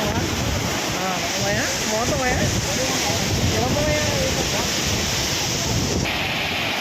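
Tarabu waterfall in ASR district roars as a steady, dense wash of falling water, loud and continuous, with faint voices and wind buffeting mixed in.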